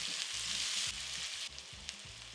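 Onion frying in avocado oil in a preheated wok-style pan, a steady close sizzle broken by a few short stirring knocks, with no talking.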